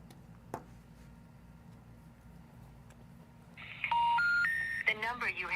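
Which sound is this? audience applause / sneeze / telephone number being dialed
telephone number being dialed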